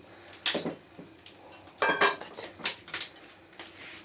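Pieces of pike being packed into a dish for salting, a run of close clinks and knocks of handling against the container at an uneven pace, with no talk.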